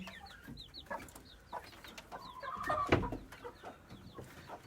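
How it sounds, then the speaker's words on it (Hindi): Chickens cluck softly and repeatedly nearby, with short chirps and one louder squawk midway amid light background noise. "और ये हमारी मुर्गी"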